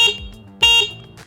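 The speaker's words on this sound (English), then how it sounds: "This is how loud the alarm is." A Juiced HyperScorpion eBike's security alarm sounds in two loud, piercing electronic bursts heard close up, each a sharp tonal blast with a short gap between them, and no voices.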